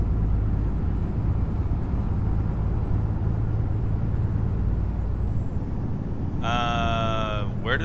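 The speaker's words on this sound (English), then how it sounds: "all the brake sounds, the air brakes, the parking brake, all that's off the new sounds" A truck in American Truck Simulator drones steadily with a loud engine rumble, then a short squealing burst of air brakes sounds near the end.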